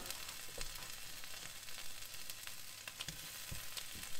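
Tomato pieces sizzle and crackle in a frying pan set half over the burner, a steady close hiss broken by scattered pops and spits, with no voices.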